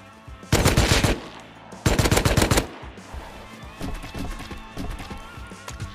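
AK rifle gunfire in the video game Rust: two loud close bursts of rapid automatic shots, followed by scattered quieter shots and game noise.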